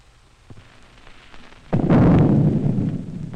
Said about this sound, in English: This is an atomic bomb, a chain reaction, out of control, releasing a great amount of energy.